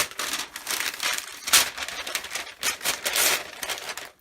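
Card kit packaging being ripped open and crumpled, a run of close crinkling and tearing rustles in uneven bursts, loud and alone.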